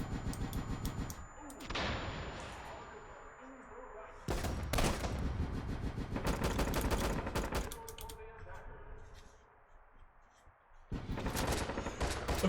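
Video game gunfire from a sniper and other weapons: several loud bursts of rapid shots separated by quieter stretches, close and sharp, with someone speaking at times.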